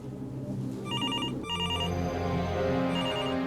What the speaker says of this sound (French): Derrière lui, la sonnerie du téléphone retentit.